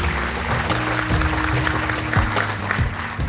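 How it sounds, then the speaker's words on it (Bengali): Audience at a Bangladeshi folk music grand finale clapping loudly, a brief burst of steady applause with some sustained instrumental tones beneath it. "আমার মনে হয় জনাব অঞ্জন চৌধুরী এবং বাংলাদেশের লোকগানের জন্য আমরা জোরে করতালি দিতে পারি।"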